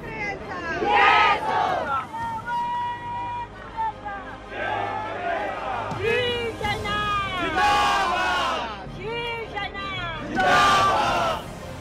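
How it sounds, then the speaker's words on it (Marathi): A large crowd of Shiv Sena supporters gathers outside a residence in Khar, Mumbai, shouting slogans and chanting in loud surging waves, with voices rising and falling together over a steady street hubbub. "राणा यांच्या खारमधल्या निवासस्थानाबाहेर आणि मातोश्री बाहेर शिवसैनिकांची मोठी गर्दी होती"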